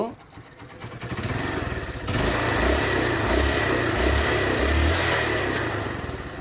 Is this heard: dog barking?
no